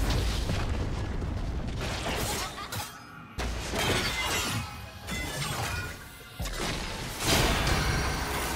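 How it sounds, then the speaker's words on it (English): A turret in League of Legends being destroyed: loud shattering crashes and booming impacts in several heavy bursts separated by brief lulls, with whooshing debris. "Red team's turret has been destroyed"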